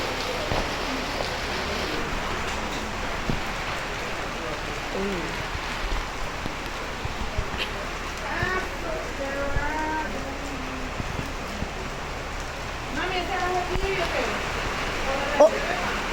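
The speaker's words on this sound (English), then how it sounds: "The rain hitting the rooftop is so loud." Heavy rain drums on a rooftop in a steady, loud wash of noise, with a few faint voice-like sounds over it.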